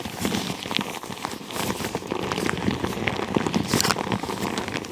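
A noisy go-bag's fabric rustles and crinkles continuously up close, a dense patter of small crackles that sounds much like rain on a surface.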